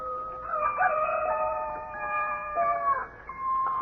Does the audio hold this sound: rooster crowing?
yes